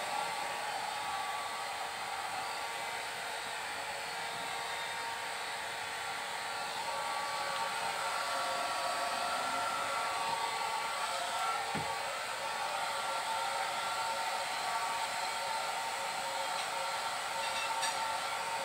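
A pet dryer blows a steady, loud broadband stream of air after a pet's bath, running continuously without pause and with no speech over it.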